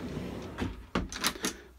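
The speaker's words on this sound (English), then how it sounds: "cutlery drawer." A cutlery drawer in a motorhome slides and clatters briefly, with a few quick knocks and a light rattle of contents, close by and fairly quiet.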